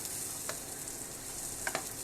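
Chopped tomatoes fry in a pan for sago pilaf, giving a soft, steady sizzle with a few light clicks of stirring near the end, faint and close.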